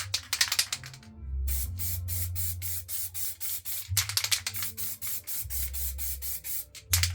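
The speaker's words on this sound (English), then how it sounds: "So I've got my tip sprayable putty, and I'm going to cover the whole thing." An aerosol can sprays filler putty onto a prop sword in long hissing bursts broken by short pauses, with rattly clicks between sprays, close and loud.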